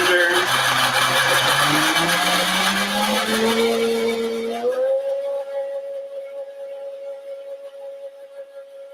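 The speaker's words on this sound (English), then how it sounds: "Put that into the blender." A kitchen blender whirs through a creamy vegetable salad dressing, its loud motor pitch rising as it spins up, then settling into a steadier, quieter drone.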